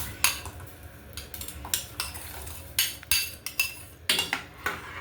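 A utensil scrapes and clinks against a pot of boiling water as food is stirred in, a run of sharp metallic knocks and scrapes at an uneven, brisk pace, close and fairly loud with no talking.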